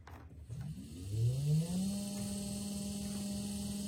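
Small electric boat trolling motor powered by a 12V 50Ah battery spins up with a rising whine that settles into a steady, fairly loud hum, heard alone without talk.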